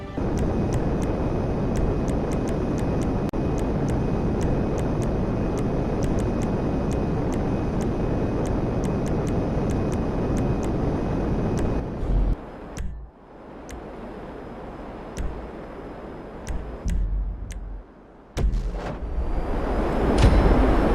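A Hydra jet in GTA 5 Online, its engine roaring as a steady loud rush that drops away abruptly toward the end, leaving quieter gaps before the roar swells again.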